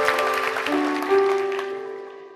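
A church congregation claps during a sermon. The busy applause sits over sustained musical tones and gradually fades out toward the end.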